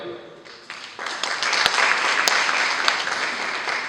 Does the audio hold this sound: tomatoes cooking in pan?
no